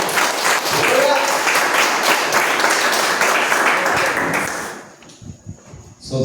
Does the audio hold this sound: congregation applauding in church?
yes